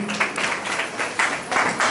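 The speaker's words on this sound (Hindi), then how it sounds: "प्रभु को ताली बजाते प्रभु को महिमा दें" A church congregation claps hands in praise during a Hindi worship service, a steady rhythmic patter of many palms, moderately loud and fairly close, with faint voices mixed underneath.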